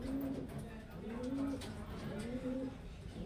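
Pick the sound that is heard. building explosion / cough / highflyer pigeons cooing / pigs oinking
highflyer pigeons cooing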